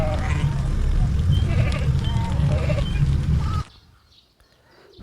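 A sheep bleats several times in a loud, wavering burst over a dense outdoor background, then the sound cuts off into near silence.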